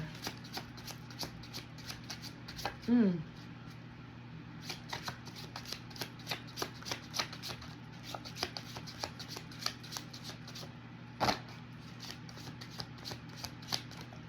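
Tarot cards are shuffled and handled close by, with a quick riffling burst early on and scattered soft card flicks and taps throughout, no talk.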